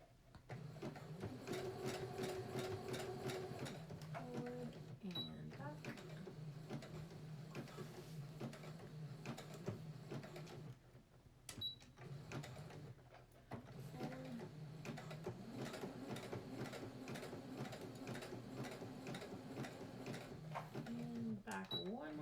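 A sewing machine runs a zigzag stitch on a fabric face mask, giving a rhythmic mechanical clatter in two long bursts separated by a brief pause. A voice talks softly over parts of it.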